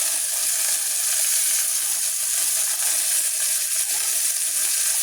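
White cheddar being stirred into simmering chicken alfredo sauce, giving a steady, close bubbling sizzle with a bright hiss that holds evenly throughout, with no talking.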